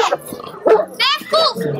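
A nearby dog gives a few short, sharp barks and yips, separated by brief pauses, at a pet festival in Delhi.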